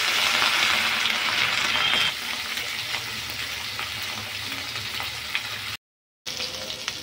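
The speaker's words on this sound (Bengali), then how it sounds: "মাছগুলো আমার ভাজা হয়ে গেছে" Fish frying in hot oil in a wok, a loud continuous hiss and crackle that eases to a softer, steady sizzle, with a brief dropout near the end.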